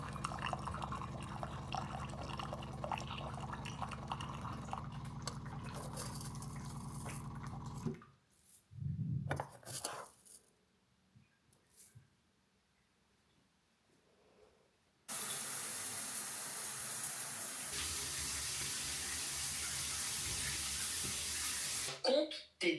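Water running from a kitchen tap while tea is made: a steady hiss of flowing water that stops, a quiet stretch with a voice and small clatters, then the tap gushes again loudly for several seconds.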